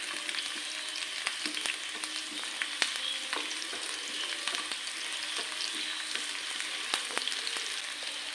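Onions frying in hot ghee in a pan for Karkidakam kanji give a steady, close crackling sizzle with scattered pops and faint stirring clicks, and no voices.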